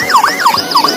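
A toy ambulance car's electronic siren wails in a steady rising and falling sweep, close, loud and continuous with no talking over it.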